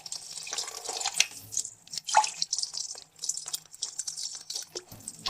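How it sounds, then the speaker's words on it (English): Water from a Cuban household supply, boiled on a stove, pours into a glass in a splashy, uneven trickle with drips and small gurgles, close and moderately loud, with no voices over it. "I mean, look at how the water comes out."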